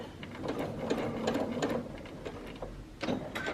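A sewing machine stitches quilt binding off the fabric edge in a steady rapid run of close needle clatter, fairly quiet and alone, with a short pause before stitching resumes.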